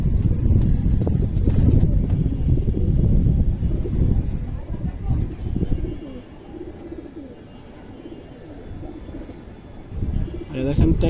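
Indian highflyer pigeon giving soft, low cooing close by, partly mixed with a voice talking over it and a little wind.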